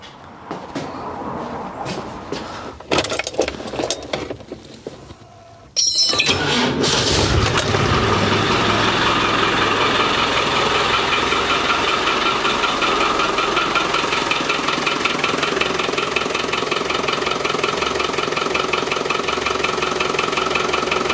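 Land Rover Defender 110 engine with a newly fitted smooth pulley, starting after some clunks and handling noise, then running at a steady loud idle, close up with no squeak.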